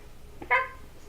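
A house cat lets out one brief, clear meow close by, with quiet room tone before and after.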